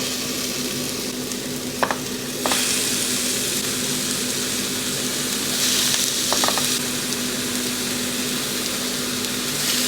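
Thin burger patties fry in a pan, giving a steady moderate sizzle, with a couple of brief scraping knocks and a louder burst of hissing partway through; nobody speaks.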